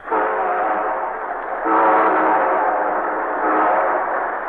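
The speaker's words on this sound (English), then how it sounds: "And here comes our star-studded show train." A train sounds its horn as it approaches, a dense, loud, sustained chord with slight swells, heard alone with no talk over it, opening an old radio railroad show.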